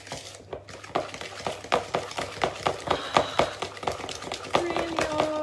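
Egg being mixed into cake batter in a bowl by hand, a steady run of quick knocking and scraping strokes that speeds up, with faint background noise.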